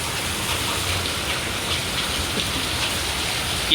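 Heavy rain falls without pause, a dense close hiss with faint patter, and no voices are heard.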